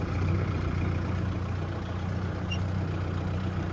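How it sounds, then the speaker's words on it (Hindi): Powertrac tractor creeping slowly through a wheat field, its diesel engine giving a steady, continuous low rumble close by with no breaks. "और इधर देखो भाई ट्रैक्टर, पावर ट्रैक भी अपना धीरे धीरे चल रहा है"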